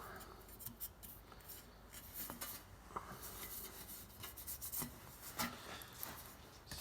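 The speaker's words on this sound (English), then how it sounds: "A little bit of sanding there and smooth it out." Quiet, close sanding: irregular scratchy rasping strokes on a metal rear quarter panel of a 1950 Plymouth, with brief pauses between passes.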